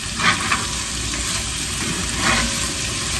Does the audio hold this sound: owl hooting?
no